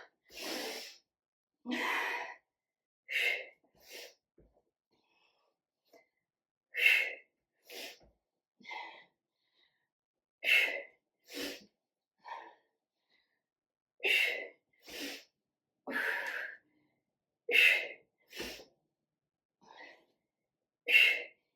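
A woman doing side lunges with upright rows breathes heavily, with about a dozen sharp, separate inhales and exhales in an uneven rhythm, close and clear against a silent background.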